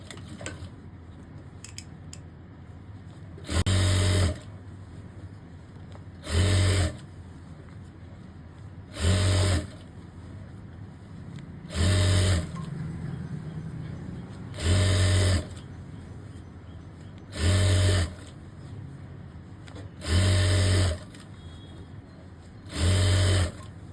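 A sewing machine stitches elastic on a boy's co-ord set in eight short, loud bursts of a couple of seconds each, evenly spaced, with quiet pauses of handling in between.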